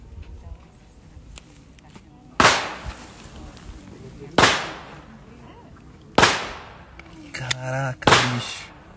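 Several sharp TX-22 pistol shots fired at a target on a shooting range, three loud cracks spaced about two seconds apart, followed by a rougher burst of noise, with people talking between shots.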